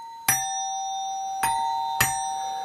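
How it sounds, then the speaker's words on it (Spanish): An electric musical ding-dong doorbell chime for AC or DC, ringing in three clear, bright strikes with long tonal decay, the first alone and the last two closer together, loud and close with no talk. "Empezamos por el timbre musical, también llamado din-don por el sonido que hace"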